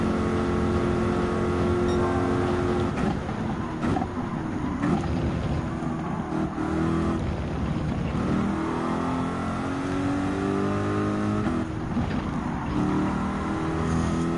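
Race car engine in Gran Turismo 7, a GT World Series Manufacturers Cup round, revving hard and steadily near the limit with rising and falling pitch through gear changes, loud and continuous without talk.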